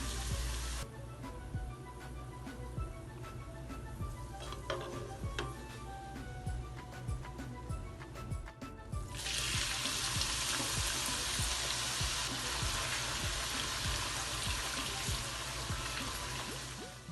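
Onions frying in oil for deghi qorma while being stirred constantly: a steady crackling sizzle with light scraping ticks, then a sudden louder, denser hiss of frying about halfway through, close and continuous with no talk.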